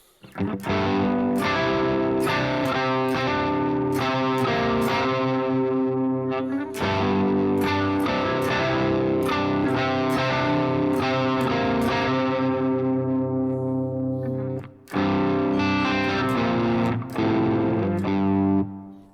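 Crunchy, overdriven electric guitar through a Bogren Digital Trivium Ampknob amp plugin plays chords and riffs continuously with a reverb tail, loud and sustained, briefly pausing before resuming.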